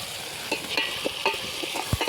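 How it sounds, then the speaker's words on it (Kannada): Tomatoes fry with softened onions in a pan for a hyacinth bean pulao cooked in a village field, with a continuous close sizzle and a regular rhythm of spatula scrapes and taps. "ಈಗ ಈರುಳ್ಳಿ ಬೆಂದಿದೆ ಈಗ ಟೊಮೊಟೊ ಹಣ್ಣು ಹಾಕೋತಾ ಇದ್ದೀವಿ"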